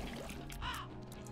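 Birds caw in The Binding of Isaac: Repentance, a short harsh crow-like call rising over low game music and watery ambience, fairly quiet.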